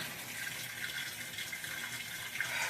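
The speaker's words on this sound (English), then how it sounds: "somehow the auto sensing must be kicking on, because now it's adding sufficient water" Water gushes steadily into a Whirlpool washing machine drum as it fills, a continuous close hiss and splash that stays even for the whole stretch with no voices.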